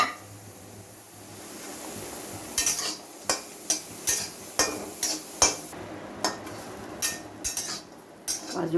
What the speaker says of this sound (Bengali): কড়াইয়ের মধ্যে আমি কাজু আর কিশমিশটা ভেজে নেব।